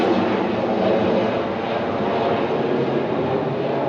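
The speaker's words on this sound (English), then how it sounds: "Got a plane coming over." A fixed-wing airplane passes overhead, making a loud, steady broadband roar that holds at an even level throughout, with no talking.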